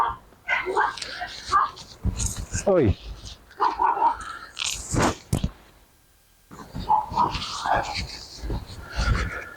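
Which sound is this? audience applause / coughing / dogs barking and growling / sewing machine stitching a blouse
dogs barking and growling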